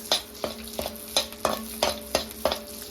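Garlic and green chilies sauté in ghee with a soft sizzle, while a spoon scrapes the pan in steady strokes, roughly seven in under three seconds.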